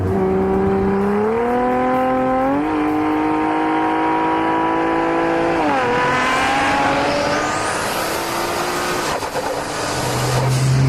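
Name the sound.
Nissan GT-R AMS Alpha 12 wastegate flutter and turbocharger whine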